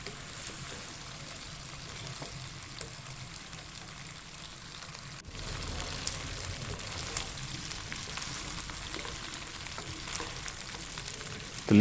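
Chicken macaroni stirred and mixed in a pan gives a steady soft sizzle with faint scraping, which grows a little fuller partway through and stays low and even throughout, with no voices.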